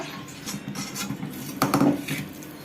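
Cashew and almond pieces tumble into a bowl of foxtail millet laddu mixture with jaggery, giving a brief clattering rattle partway through over soft handling noise.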